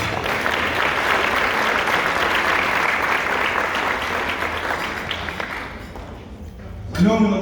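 Loud, sustained audience applause at an evening ceremony honoring a Sea Cadet color guard, dense clapping filling the room for about six seconds before tapering off, with a voice rising briefly at the end.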